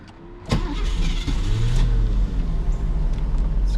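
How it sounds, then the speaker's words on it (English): A 1976 Mercedes-Benz 450SL engine cranks and catches about half a second in, then settles into a steady, close, rumbling idle with no talk over it. "This car starts right up."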